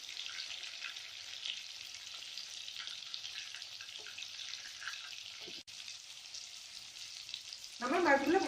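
Prawns fry in a pan for a Bengali prawn malai curry, a steady close sizzle and crackle of hot oil running throughout, with a louder burst of spitting near the end.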